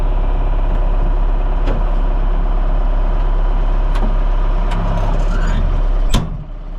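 A 1988 Cat IT28B wheel loader drives with a loud, steady diesel drone that holds throughout, then drops off abruptly after a sharp knock near the end.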